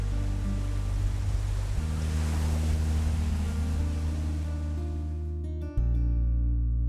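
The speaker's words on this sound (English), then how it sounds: "Many puffs of wind over the sea produce the waves which move and shape the sand on the beach." Sea surf rolls onto a beach in a natural park on the Andalusian coast as a broad, continuous rushing wash, with a steady low hum underneath that shifts near the end.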